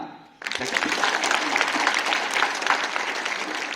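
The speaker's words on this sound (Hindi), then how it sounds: "तालियां" Loud applause from a large crowd at a school assembly bursts in abruptly and holds steady, a dense wash of clapping that continues to the end.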